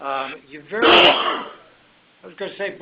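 A single sharp sneeze bursts out between stretches of someone speaking during a recorded talk on captive insurance, loud and close, with talk resuming right after.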